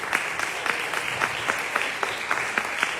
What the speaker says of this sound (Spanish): póngase de pie, un aplauso para él